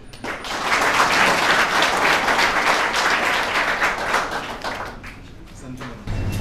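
A large audience breaks into loud, sustained applause to welcome a speaker at a lecture event. The clapping is dense and even and tapers slightly toward the end, just before a voice begins.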